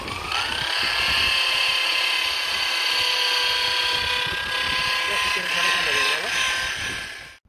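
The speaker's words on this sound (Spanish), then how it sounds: "lo que necesitamos es un taladro, una esponja de las que se pegan en el taladro y polish" Electric drill fitted with a sponge pad polishing a car headlight, a loud, steady high whine that holds for several seconds before cutting off, with a voice talking over it.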